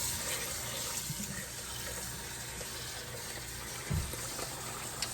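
Tap water runs steadily over rice being rinsed in a pot, a continuous close splashing wash with a brief thump near the end.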